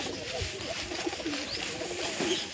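A pigeon cooing close by, soft low warbling calls repeated over a steady background hum, with faint movement noises.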